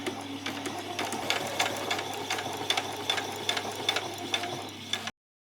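A sewing machine back stitches, then runs straight across a dress bodice in quick rhythmic bursts of needle clatter, close and steady, with short pauses between runs and no talk.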